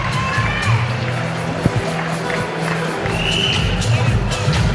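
Boxing crowd cheering loudly through the close of the sixth round at the Frank Bianco Cup, a dense, steady roar of voices with scattered shouts and whoops.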